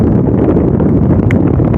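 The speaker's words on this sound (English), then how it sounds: "It's a little windy today" Steady low roar of wind buffeting the microphone outdoors at an air and space museum, loud and continuous throughout with no voices.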